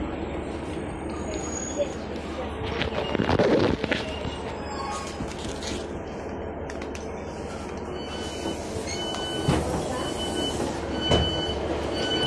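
A train at Truro railway station gives off a low rumble and rolling rail noise with brief metallic squeals rising midway and near the end, while voices murmur in the background.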